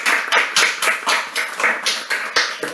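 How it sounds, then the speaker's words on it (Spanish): An audience claps in brief, rhythmic bursts at a book presentation, the sharp claps close and fairly loud. "quería un fuerte aplauso para Martín Valiente"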